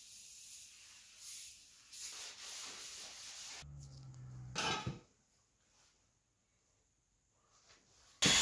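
Glass cleaner sprayed onto a 1970 Chevy Nova subframe and wiped by hand, with close rubbing, short spray hisses and a sharp burst, then a near-silent pause before a loud final swipe.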